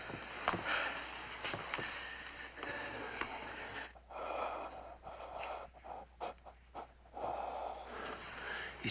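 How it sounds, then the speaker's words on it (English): Labored, wheezing breaths from an unconscious man, snorting and gasping in uneven bursts, close and fairly quiet against a faint background. "Yeah, but he's not breathing right."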